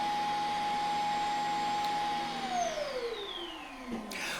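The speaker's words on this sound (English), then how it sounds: "There's our little Roomba vacuum emptying itself into the big container." Roomba robot vacuum emptying itself into its large dock container: a loud, steady whining suction roar with a falling pitch sweep toward the end, no voices.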